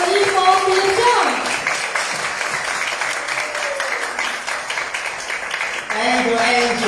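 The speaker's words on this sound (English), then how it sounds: "let's give a big round of applause to welcome our COE IV Philip Cheung" A business event audience at Discover India 2025 gives a sustained round of applause to welcome a speaker, with music tones and some voices mixed in beneath the steady clapping.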